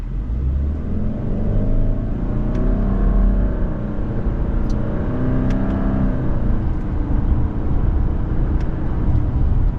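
A 2024 Subaru Legacy Sport's engine rises steadily in pitch as it accelerates, easing back and climbing again in stepped stages through simulated CVT gears, with a constant road rumble underneath.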